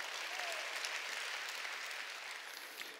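A church congregation applauds during a Sunday worship service, a full, even wash of many hands clapping that holds steady for a few seconds and eases off slightly at the close.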